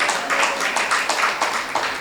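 A church congregation claps hands during a Tamil Christian sermon, a steady run of sharp overlapping claps at close range with no talking.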